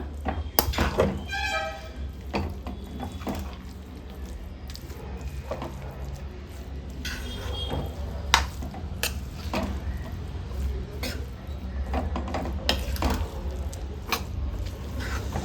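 A spoon scrapes and stirs through cooked rice as capsicum rice bath masala is mixed into it. Soft thunks, squishes and metal-on-pot clinks repeat irregularly at close range over a low steady hum.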